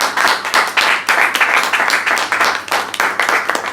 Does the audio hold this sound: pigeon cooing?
no